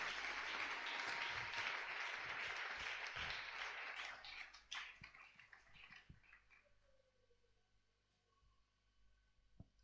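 Congregation clapping and cheering during a Sunday worship and thanksgiving service in church, loud sustained applause that fades out over several seconds with a few scattered claps left at the end.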